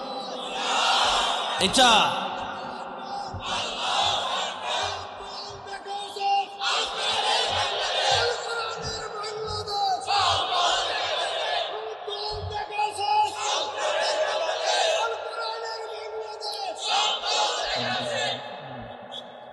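A large crowd at a religious Bengali gathering chants and shouts the Allahu Akbar slogan in repeated loud waves of massed voices, with a single voice briefly heard between them.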